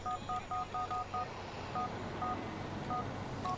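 Dial tones beep from a phone in GTA 4: a quick run of six short, evenly spaced keypad tones, then a few sparser beeps after a pause, all quiet and clean.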